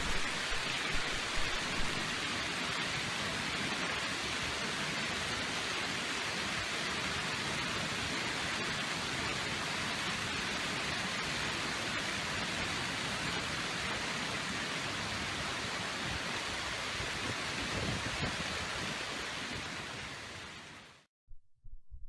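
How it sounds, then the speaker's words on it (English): Dense, steady roar of hailstones pelting surfaces, a constant loud hiss for about twenty seconds before cutting off abruptly. "Take a look at the magnitude of this recent hailstorm."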